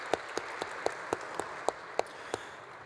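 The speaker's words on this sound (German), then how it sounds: "Begrüßen Sie mit einem herzlichen Applaus." Sparse, slow clapping from a small audience greets a guest author at a literary reading event. The claps are evenly spaced and moderately distant, with no voices over them.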